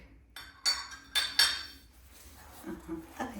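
A spoon clinks against a bowl while tiramisu truffle mixture is stirred with added coffee. A few sharp metallic taps stand out, then there is softer scraping and faint, close-up handling noises.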